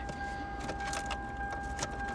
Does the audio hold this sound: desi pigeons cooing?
no